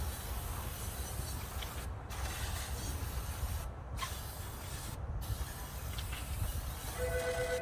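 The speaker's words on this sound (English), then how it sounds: "Hitting it with some brake clean." Brake cleaner hisses from an aerosol can onto an intake manifold in long steady sprays, with three brief pauses between bursts, close and fairly loud over a low background rumble.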